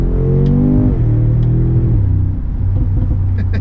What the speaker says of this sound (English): Let's pop it back into Sport Plus for some pops and bangs, because this car does like to make some fun noises.